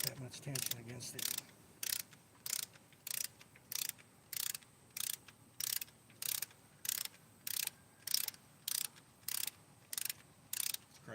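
A hand ratchet turns a socket on the top end of a 1978 Corvette engine, giving about fourteen short, even bursts of clicking at a steady rhythm, close and clear.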